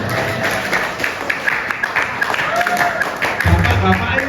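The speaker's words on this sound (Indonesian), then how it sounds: "Tepuk tangan untuk ibu-ibunya." Audience at an Islamic talk in Indonesia clapping for the mothers present, a moderate patter of hands with a voice and crowd murmur mixed in.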